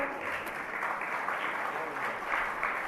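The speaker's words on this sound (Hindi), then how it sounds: "अब जो भी आप लोग ताली बजा रहे हैं" Audience clapping at a religious discourse, a steady wash of many hands applauding together in a large room, moderately loud and continuous with no clear break.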